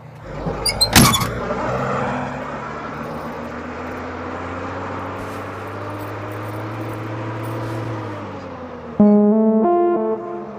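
Low steady engine drone of a bus idling and running, fairly loud with a sharp clatter near the start, then a brief harmonic tone at the end; no talk heard.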